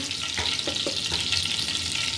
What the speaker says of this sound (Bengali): এই যে মাছগুলা দিয়ে দিলাম, এখন এগুলা ভাজা হোক